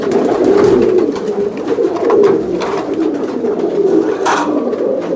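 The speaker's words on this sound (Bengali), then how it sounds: "অনেক সুন্দর এটা লালদম কবুতর" Red-tail pigeons at a large pigeon farm, many overlapping low rolling coos forming a loud continuous chorus close by, with faint bits of background noise.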